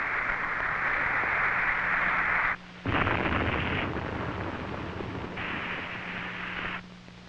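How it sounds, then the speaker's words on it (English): A Titan II missile explodes during a failed test launch at Cape Canaveral, heard as a loud, sustained broadband roar that drops out abruptly twice before resuming and then fading, with no voices. "The missile is destroyed."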